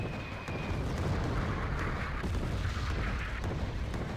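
Artillery explosions in the Wargame Red Dragon strategy game, a dense continuous rumble of booming blasts that fills the whole stretch, loud and close with no talking.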